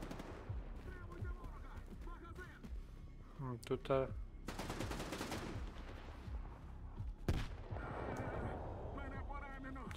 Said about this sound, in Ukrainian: А тут хто стріляється?